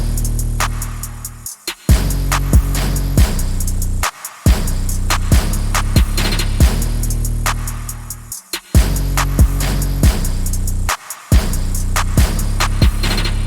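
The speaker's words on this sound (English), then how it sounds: "Our drums should sound something like this." Trap drum beat with loud stomps, sharp hi-hat ticks and a deep booming 808 looping in a steady rhythm, dropping out briefly at a few points.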